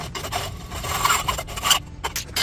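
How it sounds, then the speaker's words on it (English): A piston is being cut off its one-piece rod for a DIY vacuum sealer tool. The close, rasping saw strokes come in an uneven back-and-forth rhythm, with short pauses between bursts. "So I'm going to have to cut the piston off."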